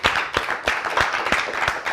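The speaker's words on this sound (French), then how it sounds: "une fois de plus on s'applaudit" A studio audience applauds invited guests on a live afternoon show, a brisk, dense clatter of hands with a few sharper accented claps standing out, close and continuous for about two seconds without speech.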